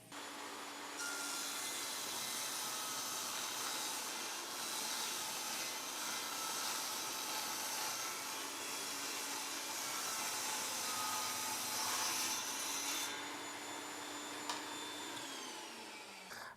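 Evolution Rage 5S table saw cutting wood without dust extraction, a steady loud whining drone held for about twelve seconds before winding down, with no talk.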